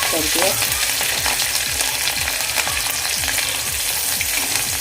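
Garlic and green chillies frying in a pan, a loud close sizzle with rapid spattering pops and repeated stirring scrapes in a quick, regular rhythm, with no talking.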